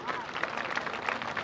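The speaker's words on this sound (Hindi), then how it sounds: "सबसे पहले आपको उनके लिए हिम्मत, हौसला बढ़ाने के लिए उनके लिए एक जोरदार तालियां बजाइए" An audience claps for student dancers, a dense, steady patter of many hands filling the hall, fairly loud and continuous throughout.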